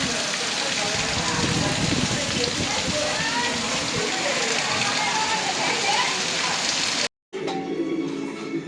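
Heavy storm rain pours down in a dense, steady hiss with muffled voices underneath, then cuts out abruptly into a moment of silence before a quieter stretch.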